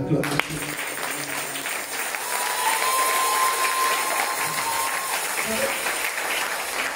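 A church congregation applauds a preacher during a French-language service, a steady broad clatter of clapping that swells after a moment and holds for several seconds, with a long sustained tone running underneath.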